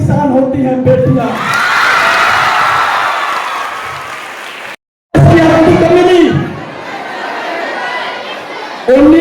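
Crowd at an Indian patriotic tricolour march gathering claps and cheers in a sustained burst, with chatter mixed in, then the cheering and applause return after a brief cut.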